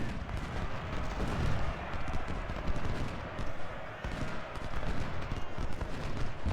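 Massed troops fire rifles and cannon in the Civil War battle game Ultimate General: Civil War, producing overlapping volleys and booming reports that roll on continuously, loud and close, with a voice speaking faintly underneath.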